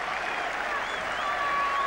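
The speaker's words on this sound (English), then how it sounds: "they're going to applaud him all the way in" A cricket crowd at Old Trafford applauds Ian Botham in a dense, steady wash of clapping, with faint whistles rising through it.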